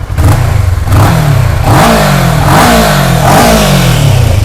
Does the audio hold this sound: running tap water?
no